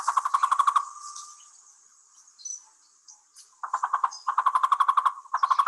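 Cuba's national bird, the Cuban trogon, gives a call made of rapid bursts of repeated notes, in several loud, close series separated by a quieter stretch with softer chirps.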